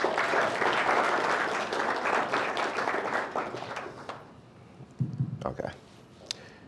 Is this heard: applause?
yes